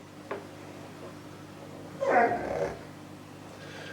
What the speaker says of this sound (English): that's our 2 dogs, and as they're moaning because they're outside at the moment